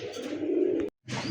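Short face pigeons coo in one close, soft, throaty call lasting under a second. A brief silence follows, then the cooing resumes.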